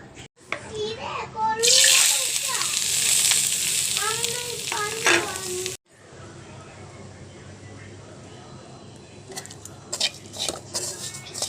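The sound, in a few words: grated coconut roasting in a pan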